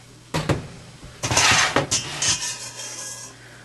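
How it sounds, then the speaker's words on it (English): Sourdough biscuit dough being scooped off with a spoon onto a baking sheet, a few close scraping, rasping strokes and soft clunks in short bursts, with no talk. "So you just keep on chunking it off with a spoon"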